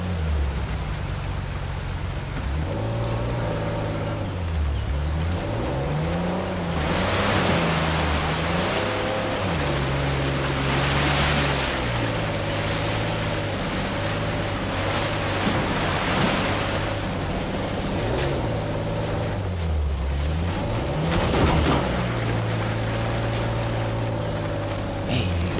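Rushing waterfall water in a video game, a loud, steady broadband roar like surf that fills the whole stretch, with tonal game music or engine-like hums swelling and dipping underneath.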